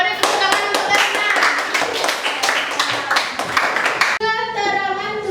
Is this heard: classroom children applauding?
yes